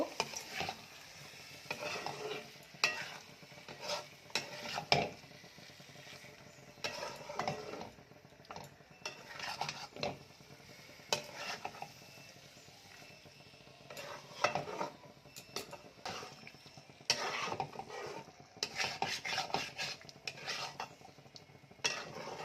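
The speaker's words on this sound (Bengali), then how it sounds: "এবার আলুগুলোকে দিয়ে একটু কষিয়ে নেব" Potatoes sautéed in a pan for egg curry are stirred steadily, with repeated clanks and scrapes of a spoon on metal over a low, continuous sizzle.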